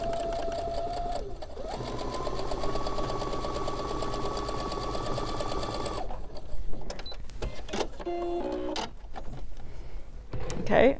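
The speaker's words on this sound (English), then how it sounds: "I'm just going to sew the rectangle onto the square." Sewing machine stitching a fabric rectangle onto a square, a steady mechanical whir running for several seconds before stopping, followed by clicks and handling noises as the fabric is adjusted.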